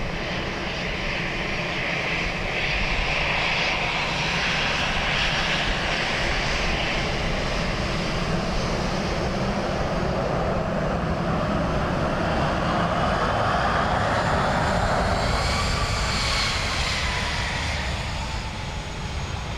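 Airliner engines at Dublin Airport build power in a continuous loud roar with a rising whine, the broadband rumble steady and fairly near throughout.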